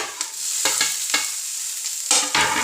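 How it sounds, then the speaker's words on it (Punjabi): Tomatoes tipped into a pan of frying onion and capsicum sizzle steadily, with a few sharp bursts and stirring scrapes, close and fairly loud, no voices. "ਇਹਦੇ ਵਿੱਚ ਆਪਾਂ ਐਡ ਕਰ ਲੈਣੇ ਆ ਟਮਾਟਰ"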